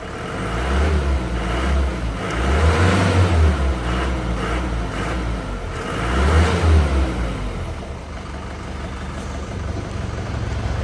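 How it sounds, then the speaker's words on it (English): Engine of a modified 1942 Jeep Willys Ford GPW converted from a Mahindra CJ500, loud and close, rising in two strong revs with a faint high turbo whine over the rumble. "you will be able to hear a turbo whine coming."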